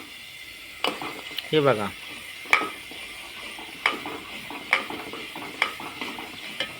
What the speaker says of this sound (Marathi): आता मी गर गर गर गर असं फिरवणार. हे चांगलं मसाला भाजून देणार बघा.